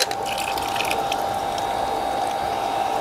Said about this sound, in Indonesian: sekarang kita nyalakan kembali pompa.